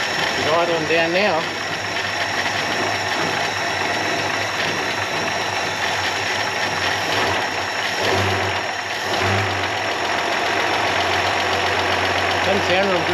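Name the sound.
old Holden car engine idling after revival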